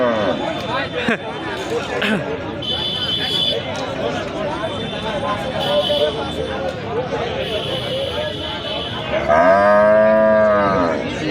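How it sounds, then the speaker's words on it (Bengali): Cattle mooing at the busy weekly cattle market in Saruliya: loud, close, drawn-out lowing calls rise over constant crowd chatter and speech, with one especially strong long moo near the end. "অনেক সুন্দর সুন্দর গরু আসছে আসলাম ভালোই করলাম"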